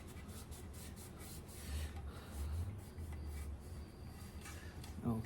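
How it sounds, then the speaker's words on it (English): A piece of t-shirt cloth rubs briskly over a Daisy 1105 air gun, a soft continuous scrubbing with uneven strokes, close and faint, with a small knock at the end. "And so give her a good rub down."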